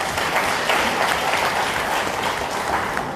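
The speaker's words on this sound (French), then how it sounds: "Je vous prie d'applaudir cela." An audience applauds a speaker at a political address about Burkina Faso, Niger and Mali, with steady dense clapping filling the whole stretch under faint background voices.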